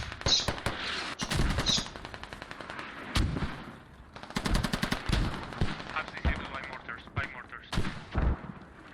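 Rapid machine-gun bursts and scattered gunshots crackle through a military shooter game match on the Kokan map, loud and dense, with commentators talking over the firing.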